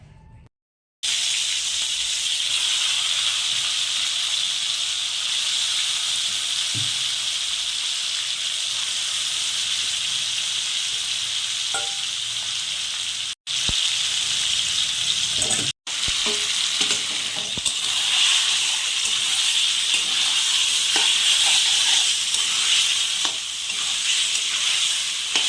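Chicken pieces frying in ghee for biryani, a loud, steady close sizzle and hiss that runs on without a break, with occasional faint clinks of utensils.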